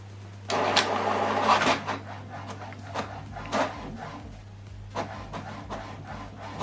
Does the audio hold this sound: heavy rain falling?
no